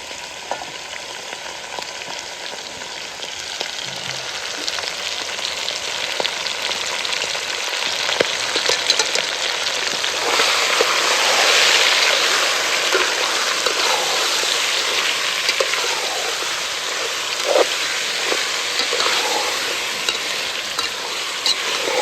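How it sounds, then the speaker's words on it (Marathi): Mutton rubbed with turmeric and salt sizzles steadily in a pan with deep-fried red onion. Broadband frying hiss runs close and continuous, with scattered stirring clatters and swelling slightly mid-way, and no voices. "आता त्याच्यात मी मटण टाकून घेणार आहे, हळद मीठ लावलेलं"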